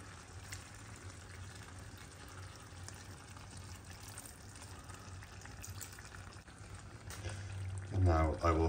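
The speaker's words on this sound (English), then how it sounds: "Now I pour that over the veggies." Spiced marinade water for a beef tajine pours over vegetables, a soft continuous gush that swells louder near the end, with background kitchen noise.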